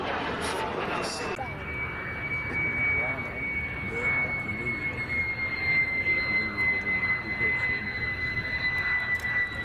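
A de Havilland Vampire FB6 jet fighter comes in to land, its engine a steady broad roar with a high whine holding throughout, close and loud, while a voice talks over it.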